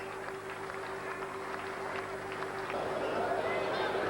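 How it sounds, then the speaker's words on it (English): Cricket crowd applauding Ravi Shastri's Test century during the 1989 second Test between West Indies and India: a steady, distant wash of clapping and crowd noise that swells slightly toward the end. "But the applause must be for Ravi Shastri."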